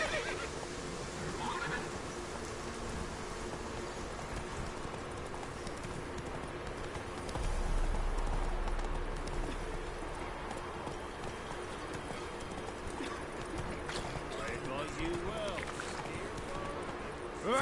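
A horse gallops in the video game The Witcher 3: Wild Hunt, with continuous rhythmic hoofbeats, a whinny, and brief dialogue voices over a game soundtrack bed throughout.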